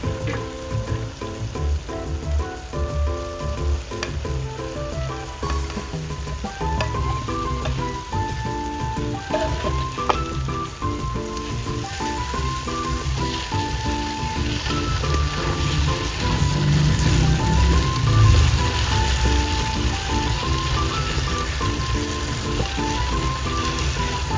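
Boiled chicken liver goes into a hot pan and sizzles with a steady frying hiss that grows slightly louder, set under continuous background music with no speech.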